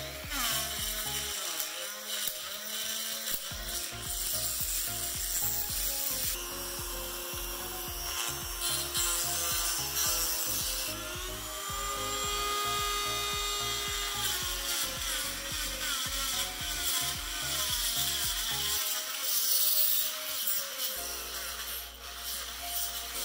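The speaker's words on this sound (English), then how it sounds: "using a Dremel tool to enlarge the adapter" A Dremel rotary tool grinds out a 14 mm pressure washer adapter to fit 15 mm, producing a steady high-pitched whine and rasp that wavers in tone and runs nearly the whole time without talk.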